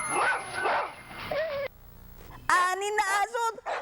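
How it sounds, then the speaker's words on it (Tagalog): Dogs bark and yip in quick, loud bursts at close range, with a short pause before a second, harsher volley. "Nagalit ang mga asong tinamaan ng 6 na dyaryo."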